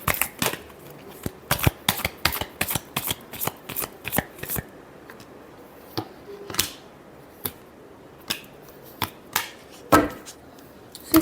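Tarot cards being shuffled in a run of crisp riffling bursts with short pauses between them, fairly close and alone with no talk.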